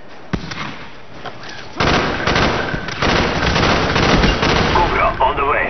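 Bursts of rapid gunfire in Call of Duty Black Ops multiplayer, a single sharp crack followed by sustained automatic fire in loud, dense volleys with brief gaps, close and punchy.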